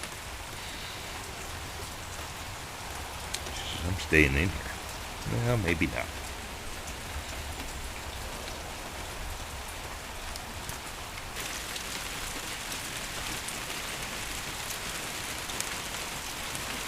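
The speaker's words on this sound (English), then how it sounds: "You don't like the rain either, do you?" Steady rain falls outside, a soft constant hiss of drops on surfaces that continues throughout while someone talks quietly nearby in short bursts.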